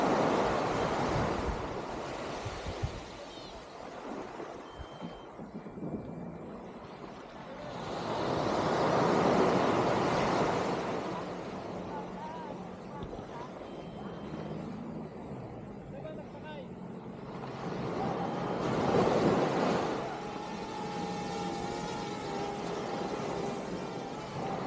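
Sea waves wash onto a beach with windmills nearby, rising into two broad surging swells between steady, gusty wind rumble on the microphone, with faint voices mixed in at times.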